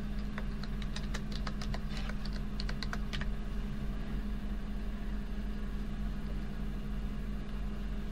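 Rapid clicks of typing on a computer keyboard, a burst of close keystrokes over the first few seconds, then only a steady hum during a Fortnite live stream.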